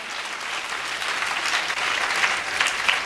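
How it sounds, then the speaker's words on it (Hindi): A church congregation claps in praise during a Sunday sermon, with steady, dense applause from many hands filling the space, slightly building toward the end and heard without speech. "ताली बजा के स्तुति करें।"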